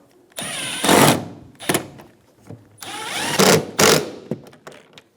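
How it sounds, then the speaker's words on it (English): A power driver spins Phillips head screws into a rear bumper bracket on a 2013-2017 Honda Accord, with two pairs of short whirring bursts rising and stopping, close up and without speech. "Install the Phillips head screws on each side."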